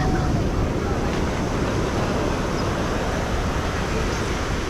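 Water washes steadily against rocks at the shoreline, a dense, loud surf-like rush mixed with wind buffeting the microphone, continuous throughout.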